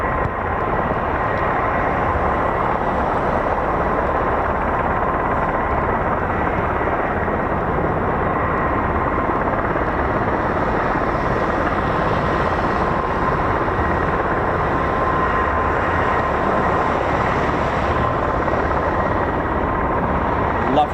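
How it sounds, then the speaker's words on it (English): A CV-22 Osprey tiltrotor sits at an RAF airfield during an engine ground run, giving a continuous loud, broad roar that holds steady for about twenty seconds, heard from a distance. "Lovely CV-22 Osprey"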